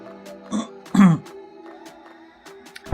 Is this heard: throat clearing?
yes